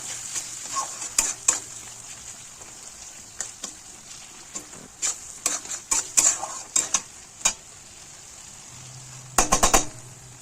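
Chicken curry spice paste with Kashmiri chili powder being stirred in a frying pan, a soft steady sizzle punctuated by irregular scraping and tapping strokes of a spoon, clustering into a quick burst near the end.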